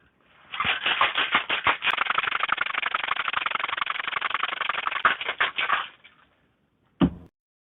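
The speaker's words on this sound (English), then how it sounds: "We're going to give that a good shake for about 15 seconds or so" Cocktail shaker packed with ice and a marionberry whiskey sour, shaken hard for about five seconds in a steady rapid rattle, then stopped, followed by one short knock near the end; no talking.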